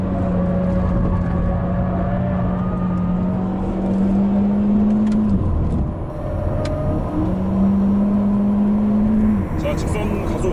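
A new JS Hyundai Veloster Turbo accelerates down a circuit straight, its engine drone rising steadily in pitch, dipping briefly at a gear change, then climbing again, while someone talks in Korean throughout.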